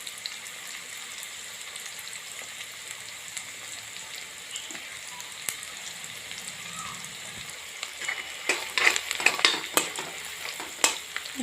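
Onions and cashews fry in a pan for spinach rice, giving a steady close sizzle, with scraping stir strokes growing louder and more frequent toward the end.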